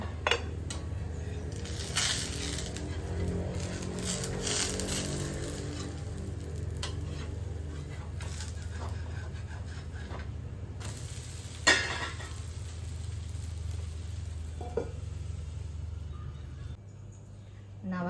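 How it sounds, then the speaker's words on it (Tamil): Sweet navadhanya adai fries in ghee on a pan with a continuous close sizzle and occasional scrapes and stirs, and a voice talks over it. "மேலே கொஞ்சம் நெய் விட்டுக்கலாங்க அடையை திருப்பி போட்டுக்கலாங்க"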